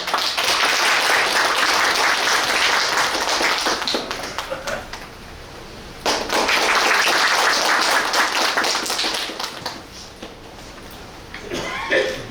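Audience applause welcoming a speaker at a public debate forum on national park ecotourism, loud dense clapping that dips and surges twice, with a brief cough and murmur between.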